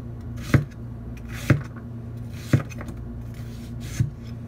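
A knife cuts washed peppers into julienne strips on a board for a cast iron pizza, with four evenly spaced, crisp, close thuds standing out over a steady background hum.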